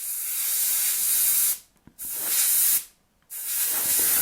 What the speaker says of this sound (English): So I will spray the shadow lines.